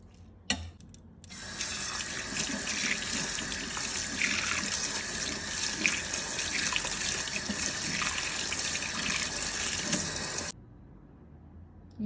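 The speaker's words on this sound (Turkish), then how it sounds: "Bir soğuk sudan geçireyim." Cold tap water runs steadily over boiled lentils in a kitchen sink for about nine seconds, a loud continuous splashing stream that starts and stops abruptly.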